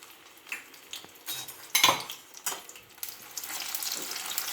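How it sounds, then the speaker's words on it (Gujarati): Green peas dropped into hot oil in a pan, giving a burst of crackling sizzle and metal clatter from a spoon, followed by steady frying hiss, close and fairly quiet. "આપણું તેલ ગરમ થઈ ગયું છે તો તેમાં આપણે આ વટાણાને તળી લઈશું"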